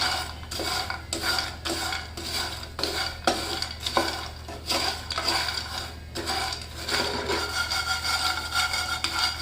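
Roasted mango seeds stirred in a pan with black salt powder mixed in, with repeated scraping strokes in an uneven rhythm, close and fairly loud, with no voices.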